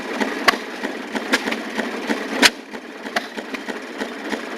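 A gasoline motor of a Maytag washing machine, a one-speed engine made for export, runs steadily with a rapid, rattling sputter and sharp irregular clacks; close and fairly loud, no voices.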